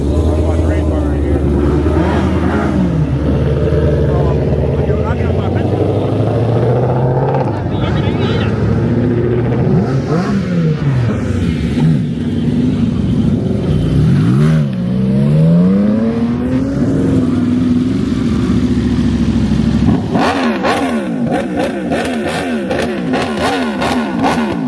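A Dodge Scat Pack car engine revs loudly and repeatedly in a rising and falling pattern, close up, with people talking over the engine noise at a car meet.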